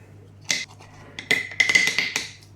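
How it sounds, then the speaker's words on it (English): A spoon stirs hot chocolate mix with chocolate chips in a bowl, making a few sharp clinks and scraping chinks in quick bursts, close and fairly loud, with no talking. "give that a nice stir"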